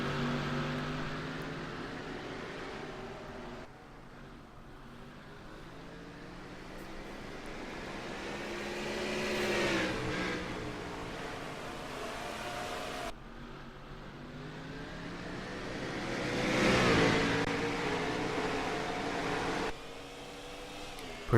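Pack of race cars leaving the start of an ISCR road-racing sim event at Mid-Ohio, engines droning steadily and rising in pitch as they accelerate, with shifts between gears and a loud swelling passage partway through.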